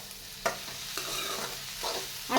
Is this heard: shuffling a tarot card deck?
no